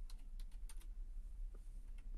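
Soft keystrokes on a computer keyboard as a command is typed in Windows 8.1, a quick irregular patter of light clicks, close and faint, with no voices.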